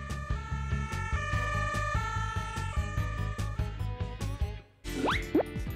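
An ambulance siren wails in loud, close tones that shift in pitch, then breaks off briefly into a few rising sweeps near the end, with no voices.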